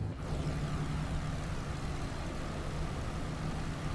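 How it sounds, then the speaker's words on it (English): Piston engines of a BN2 Islander twin-engine aircraft in Microsoft Flight Simulator, a steady loud drone with a low hum running throughout, close and continuous with no talk. "These Lycoming engines are hot out there."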